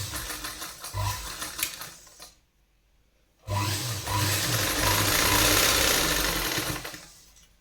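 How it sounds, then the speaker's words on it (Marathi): A sewing machine runs close by, stitching blouse fabric along the waist side in two bursts of fast rhythmic whirring and clatter with a short pause between, the second run longer before it slows and stops. "कमरेच्या बाजूला व्यवस्थित टीप मारून घ्यायची जेणेकरून अस्तर आपले बाहेर येणार नाही"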